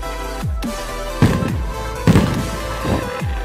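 Fireworks on the eve of Memorial Day, several separate booms at irregular intervals, each a sharp burst with a falling low rumble, heard outdoors at moderate distance.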